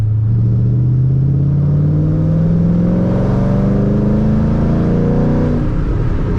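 A Ford Mustang under repair for a misfire pulls hard at full throttle in third gear from below 3,000 rpm. The loud, close engine roar rises steadily in pitch as it accelerates.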